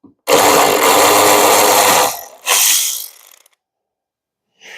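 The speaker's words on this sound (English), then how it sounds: "they want you to remove the upper bolt with your 13 millimeter socket" Power ratchet or impact tool spinning off the upper hood strut bolt with a 13 mm socket on a 2023 Nissan Altima SL AWD, a loud close two-second burst followed by a shorter one, then quiet.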